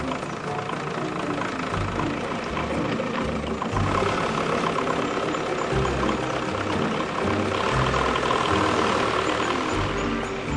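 A small tractor engine runs on the island of Sark, a steady low chugging close by that swells louder twice, with no talking.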